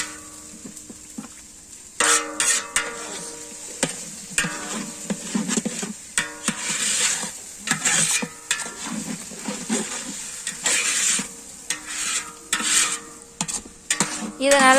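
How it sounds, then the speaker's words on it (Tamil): Curry mixture with no water being stirred in a pan to keep it from sticking, with repeated close scraping and clinking strokes of a spoon against metal over a faint sizzle, steady and busy throughout. "இப்போ அதை நல்லா மிக்ஸ்அப் பண்ணிடலாம். அடி பிடிக்காம மிக்ஸ் பண்ணணும்."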